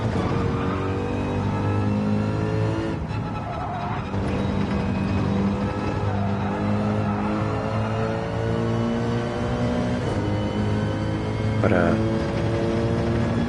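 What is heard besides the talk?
car engine in Gran Turismo 7 video game, Alfa Romeo 4C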